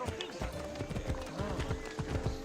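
Rhythmic clip-clop of a horse galloping in the video game Assassin's Creed Odyssey, steady repeated hoofbeats close up with a brief whinny, a voice talking over them.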